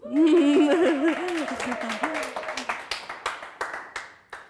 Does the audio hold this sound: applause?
yes